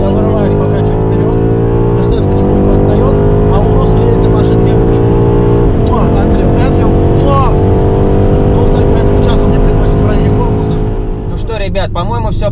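Powerful engines of a BMW X6M, Mercedes-AMG GLE 63 S and Lamborghini Urus roar loud and steady as they accelerate side by side in a drag race, with pitch climbing and dropping through gear shifts and a brief lull near the end.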